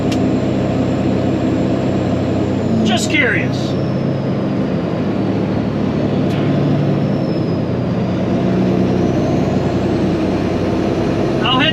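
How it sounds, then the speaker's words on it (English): Caterpillar C15 ACERT diesel engine heard from inside a day cab truck on a rainy, muddy delivery run, a loud, constant low drone with someone speaking briefly over it. "What do you guys like better, the sound of the C15A cert here in the day cab,"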